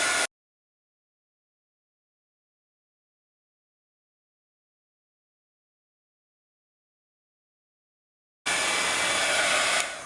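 Hair dryer blowing on watercolor-sprayed paper pieces, a loud steady roar starting near the end after long silence and continuing to the finish.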